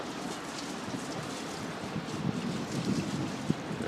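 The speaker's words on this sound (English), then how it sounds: "It's raining fairly heavily." Heavy rain patters on a small 25-foot diesel trawler, the Gulf Mariner, in a dense steady roar mixed with wind gusts and sloshing water, with a brief knock near the end.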